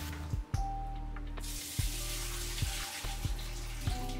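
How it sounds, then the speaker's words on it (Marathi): Lentils (dal) for puran poli are rinsed with water in a home kitchen, a soft running-water hiss with a few light clinks over a steady low electrical hum, swelling louder partway through. "तर आता डाळ 2-3 वेळा पाण्याने छान वॉश करून घेते."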